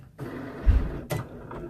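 A craft cutting machine works through a shirt design, its motor whirring and shuttling in short mechanical passes, close and fairly loud, with no talking.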